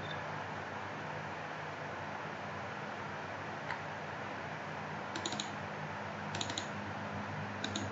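A computer mouse gives a few faint, sparse clicks over a steady background hiss in a quiet room, with no talking.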